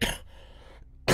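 A man with a cough clears his throat in a short, rough burst, followed after a quiet pause by a second loud throat-clearing rasp, close and alone.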